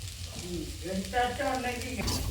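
Grated coconut stirred into chana masala frying in a pan, a steady close sizzle with soft scraping stirs, a voice murmuring faintly underneath.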